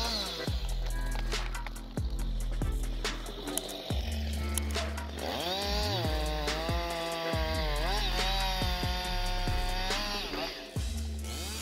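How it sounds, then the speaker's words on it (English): A forestry logging chainsaw cuts wood, its engine buzzing loud and near with pitch rising and falling as the bar bites in and eases off, broken by brief pauses and sharp knocks. "This exceptional chainsaw, renowned for its unparalleled speed and potency, revolutionizes the logging industry by spotlighting cutting-edge technology for swift wood processing"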